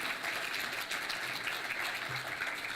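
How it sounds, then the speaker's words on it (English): Faint, steady applause from an audience at a health talk fills the short clip, a soft even patter of many hands heard from a distance. "can we give Alastair a round of applause"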